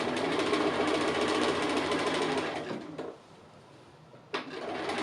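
Sewing machine stitching a fabric appliqué house design, running steadily and loudly for about three seconds, stopping briefly, then starting up again near the end; no talking.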